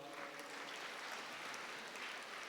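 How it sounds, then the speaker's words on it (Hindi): Audience applause during a spiritual class gathering: faint, steady clapping from a crowd that holds evenly for the whole stretch, with no talk over it. "इनके लिए भी ताली बजाओ"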